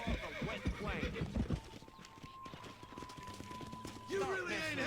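A horse in the Western video game Red Dead neighs and whinnies while its hooves clip-clop in rapid uneven beats, fairly close, with a voice talking over parts of it.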